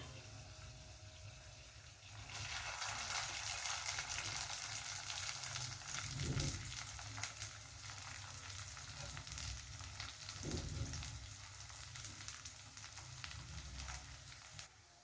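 Flattened rice frying in a pan with turmeric and chili powder, a soft sizzle that swells after a quiet start and continues steadily, with a couple of low knocks from stirring.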